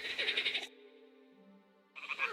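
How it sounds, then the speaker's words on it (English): Toads croaking in Kingdom Come: Deliverance II, a loud rasping rapid croak that opens and returns after a pause, with a steady tonal drone in between. "The toads are croaking here."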